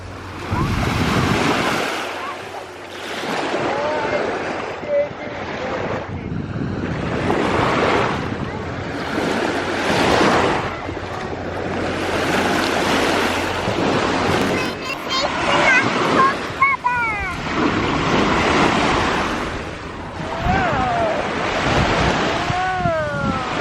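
Sea waves roll onto a beach in repeated surging washes, with strong wind buffeting the microphone, and a person talks over the surf throughout.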